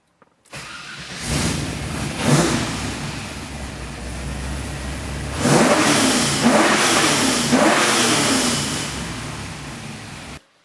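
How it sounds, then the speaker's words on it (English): A Nissan 240SX with an LS1 V8 swap and a freshly fabricated exhaust with V-band clamps cranks over and fires, then revs loudly in several strong bursts and settles back to a rumbling idle, close by with no talk. "Let's fire up the engine."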